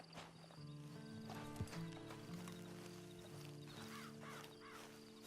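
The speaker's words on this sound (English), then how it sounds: "And you better get on this horse." Horse hooves clip-clop steadily in Red Dead Redemption 2 Online, mixed with a whinny, a faint bird call and a sustained musical tone, moderately loud and without talk.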